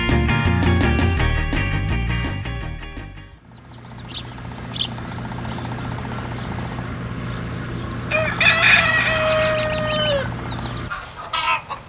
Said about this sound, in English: Chickens are very curious creatures.